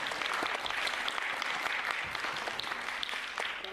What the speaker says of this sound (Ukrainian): можемо перевітати одне одного оплесками